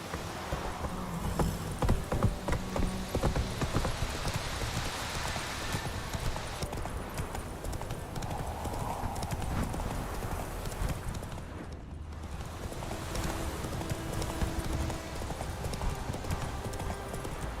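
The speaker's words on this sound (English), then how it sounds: "Whoa there, Roach." Hooves of the horse Roach clip-clop at a gallop in The Witcher 3 video game, a rapid, continuous rhythm of thuds with a brief whinny mixed in, game sounds layered around it.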